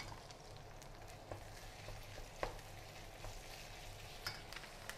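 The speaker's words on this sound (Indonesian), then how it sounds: "Sudah wangi bawangnya, kita masukkan daging giling." Ground meat frying with onions in a pan gives a steady, quiet sizzle, broken by a few soft clicks and stirring sounds, with no talking.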